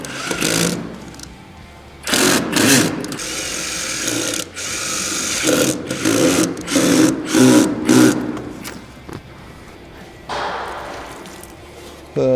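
A power drill drives four screws through metal connector plates joining sections of a pre-finished hardscape hearth, heard as several short whirring bursts with pauses and clunks between them, fairly close.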